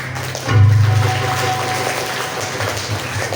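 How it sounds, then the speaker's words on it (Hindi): Loud applause from a gathered audience at a devotional Ram katha event in India, welcoming a former village head; a dense burst of clapping swells in suddenly and carries on steadily, with no voices. "उनके लिए एक बार जोरदार तालियों का स्वागत है।"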